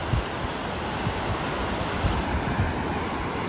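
Ghaggar river water gushing and swirling in Hanumangarh, a loud continuous rushing roar with low churning surges, heard close and alone.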